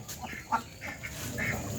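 Several birds call out in short overlapping quacks and clucks, fairly close, over a soft outdoor background.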